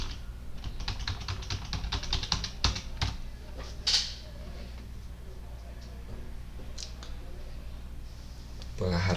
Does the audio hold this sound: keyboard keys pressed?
yes